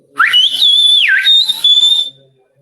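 A person whistles a short, shrill Silbo Gomero whistled-language melody up close, with pitch glides rising and dipping between sustained notes before stopping abruptly.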